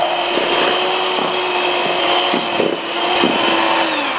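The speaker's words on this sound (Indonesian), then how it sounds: "Terus di mixer lagi kecepatan sedang." A hand mixer whirs at medium speed through an egg yolk and butter batter, a loud, close, continuous motor drone with faint rhythmic knocks of the beaters against the bowl.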